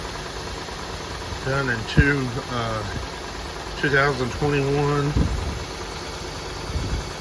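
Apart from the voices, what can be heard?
Honda Pilot engine idling after cold start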